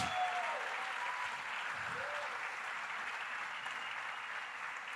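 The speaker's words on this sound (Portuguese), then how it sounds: "Dá um forte aplauso a Jesus." Church congregation giving a strong round of applause, a broad, even roar of clapping from many people that carries on without pause and fades slightly toward the end.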